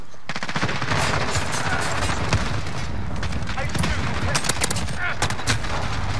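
Rapid pistol fire in a shooter video game, dense bursts of sharp close shots firing in quick succession almost without pause, loud and continuous.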